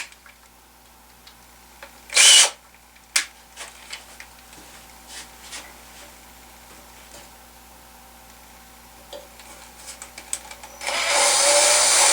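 A short burst of a power drill whirring as Speed Out extractor bits remove screws from a spotlight, then scattered clicks and taps in a quiet room, before the drill runs loudly and steadily at the end.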